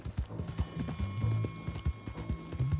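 Horse hooves clip-clop in Red Dead Redemption 2 Online, a steady run of close, sharp hoofbeats over a low game backdrop, with no talking.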